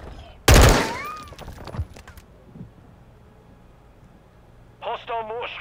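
Call of Duty Modern Warfare 2 beta multiplayer: a loud, close burst of gunfire opens, followed by fainter game sounds and a radio-style voice, with quieter stretches between.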